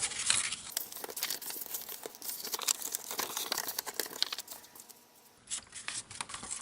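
Paper being folded and creased for a handmade zoo flip album, a steady close run of crinkling, rustling and pressing that eases off briefly near the end.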